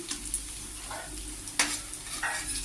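Banana flower fritters being lifted out of hot frying oil, a close soft sizzle with small scrapes and a sharp clatter partway through.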